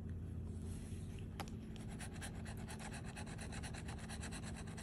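A coin scratching a Game of Life scratch-off lottery ticket, rapid rhythmic rasping strokes close by, starting with a single scrape and then speeding into a fast, steady run of scratches, no voices.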